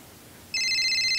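A phone starts ringing with an incoming call partway through, a steady electronic ringtone of bright sustained tones that sits loud and close after a brief quiet stretch.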